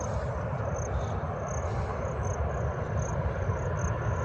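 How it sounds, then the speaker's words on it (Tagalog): A large airplane's engines rumble during takeoff or landing, a continuous heavy roar heard from outside with a steady low drone and faint higher whine, no talk. "malaking aeroplano ata to oo nagalagubog yung kanyang tunog"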